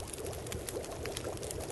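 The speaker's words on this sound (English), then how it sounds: "Melting snow." Snow melting in a pot over a campfire in The Long Dark survival game, a steady bubbling, pouring-water hiss that runs evenly and fairly close throughout.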